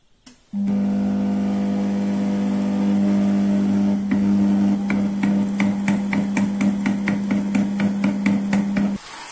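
A food processor running at its lowest speed, mixing an egg yolk into a mixture: a steady motor hum starts abruptly, joined by rhythmic knocking pulses, then cuts off near the end.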